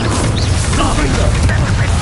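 Explosive Confringo spell blast from the video game Hogwarts Legacy, a dense, loud burst of crackling energy that roars steadily through the whole span amid busy battle effects.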